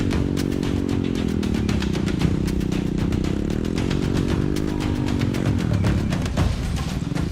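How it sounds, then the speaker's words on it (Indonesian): Motorcycle taxi riding along a narrow, slippery plantation road: a loud, close engine drone with a wavering pitch as the throttle shifts, with rattles and clatter over it throughout. "Ojek motor satu-satunya yang menjadi alternatif transportasi."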